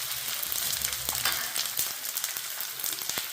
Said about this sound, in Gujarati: તો આ ગુંદર તળાઈ રહ્યું છે ઘીમાં